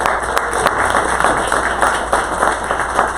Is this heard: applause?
yes